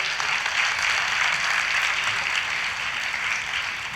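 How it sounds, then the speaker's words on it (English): Audience applause fills a large hall at a wellness event in Pune, a dense, steady wash of clapping that holds at the same level throughout with no voices on top. "a round of applause for that"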